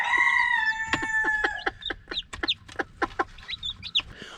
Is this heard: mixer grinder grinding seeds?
no